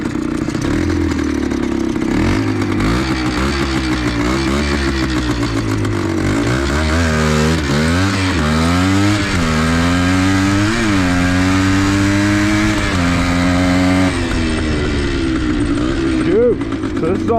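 A Suzuki TC185 dirt bike engine revs hard and close in low range, rising and falling in pitch through repeated throttle blips for a hole shot launch, loud and continuous throughout.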